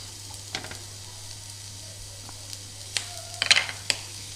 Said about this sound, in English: Lightly brown your onions.